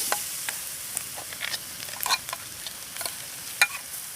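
Chana dal frying in ghee with cardamom in a wok, a steady close sizzle broken by scattered clicks and scrapes of stirring, with no talking.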